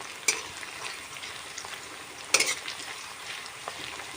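Onions and green chillies frying in a pan for a jatilao dish, a low steady sizzle with two sharper stirring scrapes, quiet and with no talk.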